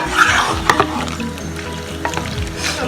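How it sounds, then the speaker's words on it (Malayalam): Squid masala in a pan just coming to a boil: steady close sizzling and bubbling with a few sharp pops and clinks, loud and without speech. "ഇപ്പൊ തിളച്ചു തുടങ്ങിയിട്ടുണ്ട് കേട്ടോ."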